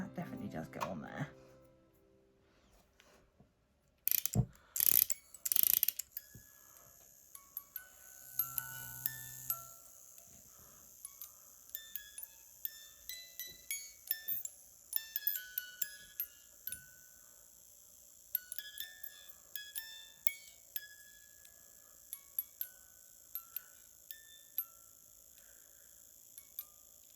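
Tinkling high metallic notes from the music box of a miniature house model kit, starting after brief talk and pinging intermittently with small clicks and handling noises, close and fairly quiet.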